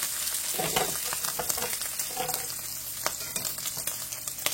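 Bacon frying in a pan, a continuous crackling sizzle with scattered sharp pops and spits, close and moderately loud, no voices over it.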